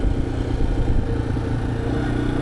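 A Yamaha XT250 dual-sport motorcycle with a stock exhaust runs at a steady low rumble, its single-cylinder engine putting out a soft continuous thrum close by.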